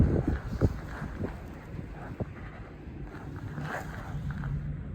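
Wind on a mountain pass, a low rumbling gust buffeting a nearby microphone, steady and moderately loud with a few bumps and rustles, no voices.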